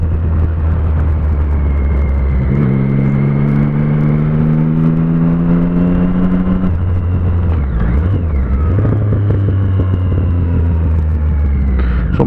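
A Honda Hornet motorcycle engine revs up and down close by, its loud throbbing note rising steadily, dropping back, then climbing again over a constant rumble.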